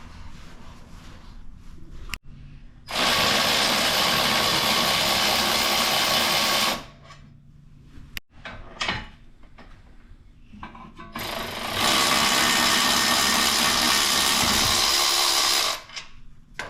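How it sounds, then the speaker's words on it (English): A power tool removes the caliper bolts on the front brake caliper mounting bracket of a 2015 Toyota Highlander. Two long, loud, whining bursts of several seconds each are separated by quieter clanks and handling noise. "now I'm going to be taking off these caliper bolts on the caliper mounting bracket"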